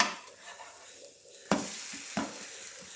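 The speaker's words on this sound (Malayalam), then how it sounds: "അപ്പോൾ നമ്മൾ ദോശ ചുട്ടെടുക്കുന്നുണ്ട്" Faint sizzling of dosa cooking on a hot pan, interrupted by two sharp scraping or clattering sounds, with no one speaking.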